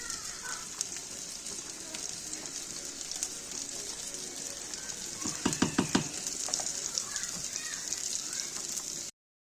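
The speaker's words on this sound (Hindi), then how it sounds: "ऐसे चिकन को मैं 1 मिनट के लिए ऐसे इसको फ्राई करूँगी" Chicken frying in a pan over a low to medium flame, a steady close sizzle with bursts of clattering stirring midway, running unbroken for about nine seconds with no talk.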